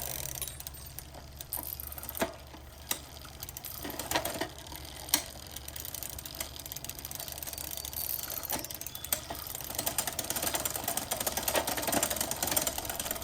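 Gears shifting on a vintage Ross Mt. Hood mountain bike being adjusted, with irregular mechanical clicks and ticking of the chain and derailleur, a few sharper snaps, close and fairly quiet throughout.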